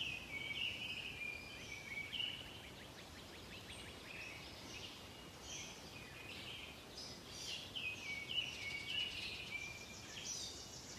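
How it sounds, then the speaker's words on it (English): Distant birds twitter on and off at low volume against a soft outdoor hush, calls scattered through the whole stretch. "sense the sounds of the birds"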